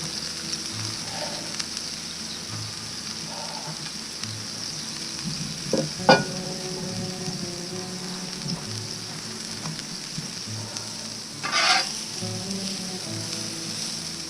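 A smashburger patty sizzles on a Blackstone griddle with a soft, steady frying crackle, broken twice by sharper metallic scrapes and clicks of a spatula pressing against the hot steel surface.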